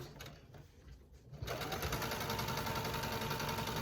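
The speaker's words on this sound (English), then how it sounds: "I put right sides together, and then I just sew across." A sewing machine stitches across pink scrunchie fabric placed right sides together; after a quieter moment of handling, a steady, close, fast mechanical whir runs without a break.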